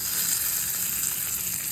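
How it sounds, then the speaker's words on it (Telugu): Mustard seeds and dried red chillies sizzle loudly in hot oil for a Telugu-style chutney tempering, a steady close, bright frying hiss throughout with no talk. "ఇప్పుడు ఆయిల్ వేడైంది. నేను ఇందులో ఆవాలు, ఎండుమిర్చి వేస్తున్నాను."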